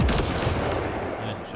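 Shotgun blasts in the sci-fi shooter Mass Effect Andromeda, a loud booming burst at the start with rapid follow-up reports and a decaying rumble across a short stretch.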